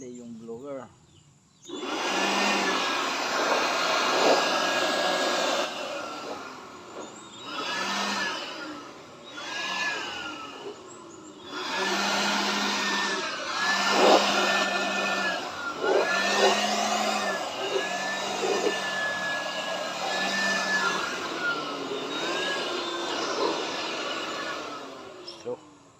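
A loud, steady whine of a blower motor running in long stretches at a hydroponic greenhouse, cutting out briefly a few times before starting again.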